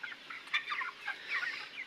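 Roosters and hens on a poultry farm cluck in a busy overlapping chorus, several birds calling close by in short irregular bursts with no talking.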